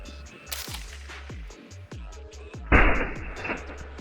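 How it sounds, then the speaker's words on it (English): Subsonic AK rounds strike a protective helmet during ballistic testing, with a sharp crack early and a louder, longer blast later, each ringing out over a faint rapid ticking background. "Another way to test the margins of strength is how each helmet does against subsonic AK rounds."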